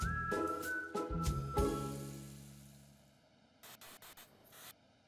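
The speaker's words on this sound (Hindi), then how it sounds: "So ये जो है कूलिंग स्प्रे है." Cooling spray hissing onto a sugar showpiece in short bursts: a few sharp sprays at the start, then a quieter gap and three or four more quick bursts near the end.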